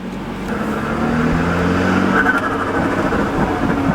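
A BMW F30 engine idles and revs steadily, with a rapid fluttering chatter from the turbo diverter valve as the throttle lifts, loud and close.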